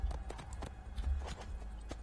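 Horse hooves at a walk in Assassin's Creed 2, a quiet, even clip-clop of repeated soft thuds at low level, alone without talk.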